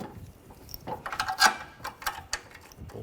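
A wrench tightens a bolt on the AC condenser and receiver drier assembly of a 2013-2019 Ford Escape 2.0L, making a close run of quick mechanical ratcheting clicks over a steady background.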